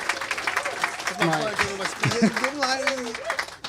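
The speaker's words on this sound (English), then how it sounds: "Can we give our authors a round of applause?" Scattered clapping from a small crowd at an author book event, steady through the clip, with people talking and voices rising over it.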